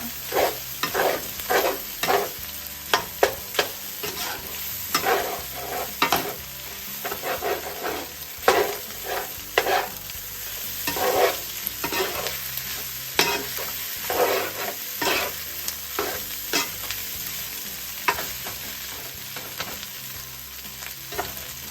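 A spatula stirs and presses beef fried rice in a hot pan, Thai style, giving repeated scraping and tossing strokes in an irregular rhythm over a constant background sizzle, close and moderately loud with no talking.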